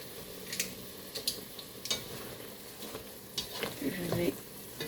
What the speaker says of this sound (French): Nos morceaux de poulet sont en train de cuire.